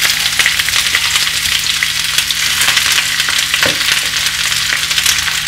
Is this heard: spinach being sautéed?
yes